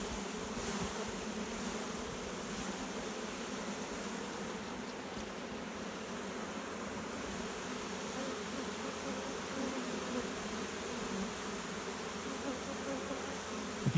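Honey bees in a colony thought to be queenless, buzzing loudly and steadily as a crowded hive frame is shaken, a dense continuous drone close by with no talk.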